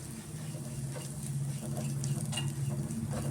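Dry coconut roasting in ghee for an avalakki (flattened rice) prasad, giving a steady soft sizzle with light stirring and scraping throughout, close and continuous.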